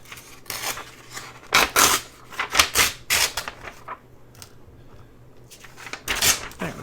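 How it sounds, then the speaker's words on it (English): The top of a paper envelope is torn off in several short, crisp ripping bursts, close and fairly quiet, separated by brief pauses. "I'm going to tear the top off."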